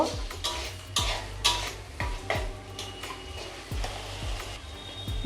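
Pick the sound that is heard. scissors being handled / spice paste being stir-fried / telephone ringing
spice paste being stir-fried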